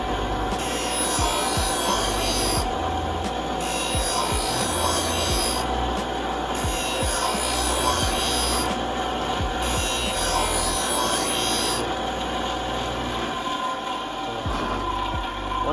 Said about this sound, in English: So you take a good blade, put it in the holder, to start sharpening.